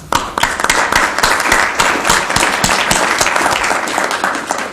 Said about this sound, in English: I want to thank all the speakers with an applause from the public